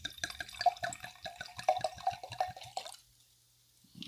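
Apothic Merlot red wine drips and gurgles in a quick, irregular run of small liquid taps for nearly three seconds, close and fairly quiet, then stops into silence.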